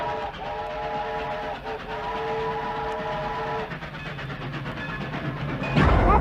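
A train approaching with a sustained horn blowing for several seconds, then rumbling closer with clattering wheels, growing louder at the end.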